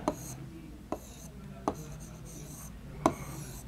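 A word is handwritten during an Urdu lesson. Four short, scratchy pen strokes come at uneven intervals over a quiet room hum.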